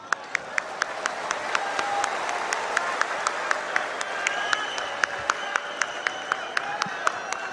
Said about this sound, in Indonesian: Kita berikan tepuk tangan yang lebih meriah lagi untuk Mas Ganjar Pranowo